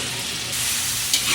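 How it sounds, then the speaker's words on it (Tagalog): Pork liver frying in cooking oil, a steady dense sizzle close up with a slight stir or shift near the end. "Mantika. Prito muna natin yung atay."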